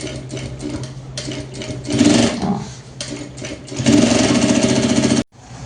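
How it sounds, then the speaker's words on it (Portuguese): A sewing machine topstitches a bag lining in close, loud bursts of rapid stitching separated by short pauses, ending abruptly as the motor stops. "a gente vai vir aqui e vai fazer um presponto"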